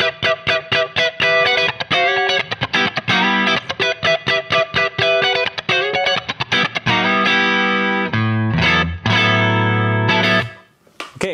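Electric guitar through a Neural DSP Soldano SLO-100 plugin with chorus on a clean, compressed patch: a run of quick picked notes gives way to ringing, shimmering sustained chords and a final fading note, played alone.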